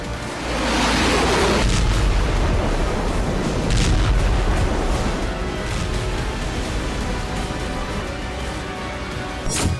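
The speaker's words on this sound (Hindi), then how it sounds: "तानाशाह के 3 धमाके," North Korean weapons-test explosions roll out as a loud, sustained rumbling boom that swells after the first second and slowly decays into a long, broad roar.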